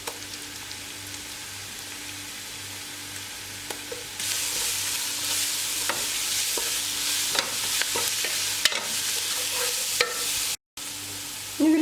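Onion sautés with ginger, green chili and garlic paste for chicken biryani, a steady loud sizzle that grows denser after the paste goes in, broken by scraping stirs and a brief drop to silence near the end.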